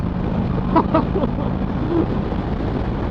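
A Harley-Davidson Road Glide ST bagger motorcycle engine rumbles steadily at speed, buried under constant loud wind rush, with a brief voice partway through.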